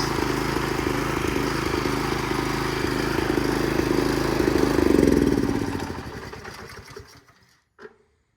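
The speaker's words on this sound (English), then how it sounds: "Get on a nice compression stroke. And it runs." A small engine with a freshly rebuilt carburetor runs with a rapid, buzzy putter close by, rising briefly before winding down and stopping, followed by a short clunk.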